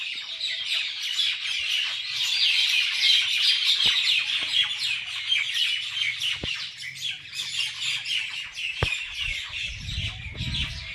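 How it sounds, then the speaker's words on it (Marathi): A dense evening chorus of many small birds chirps and tweets continuously, with bright overlapping calls close by and a few sharp clicks; no one speaks. "संध्याकाळची वेळ असल्यावर त्यांचा चिवचिवाट असतो सगळीकडे"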